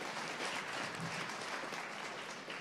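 An audience claps after a startup pitch at a pitch marathon event, continuous even applause carrying through at moderate volume.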